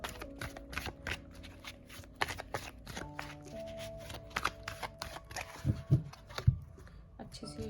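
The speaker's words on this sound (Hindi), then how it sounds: "अच्छे से शफल कर लेते हैं एक बार और" Tarot cards are shuffled by hand in a quiet room, producing a steady run of close, crisp riffling and flicking for several seconds, with a few heavier taps near the end and faint speech underneath.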